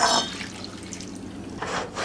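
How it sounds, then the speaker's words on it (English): Water pours from a cup into a saucepan of peeled, sliced guavas on a heated stove, a short liquid splash at the start and again near the end, with a faint trickle in between. "Just going to put a good cup of water"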